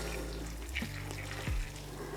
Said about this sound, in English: There's the pickling liquid. So I'm going to pour that over.